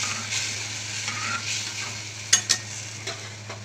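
Tamarind pulp fries in a hot pan with asafoetida for a sweet-sour chutney, giving a moderate, even sizzle over a low hum, with a couple of close spoon clinks against the pan and no voices.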